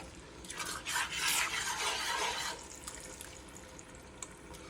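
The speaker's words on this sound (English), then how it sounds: "The more you stir it, the more you mash it, the finer it's going to get." A spoon stirs and mashes thick chili in a pot, producing a loud, wet scraping burst for a couple of seconds before settling into quieter, sparse clinks.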